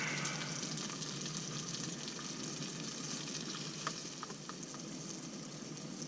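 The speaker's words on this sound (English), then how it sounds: "Spam fried up in onion oil. Wild onion oil at that." Spam fries in wild onion oil in a pan outdoors in the woods, a steady dense crackle and hiss of sizzling fat with a few sharper pops toward the end, no talking over it.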